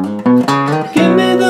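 An electric guitar plays the short first chorus riff of a song, a few plucked notes and bends ringing out alone, loud and close.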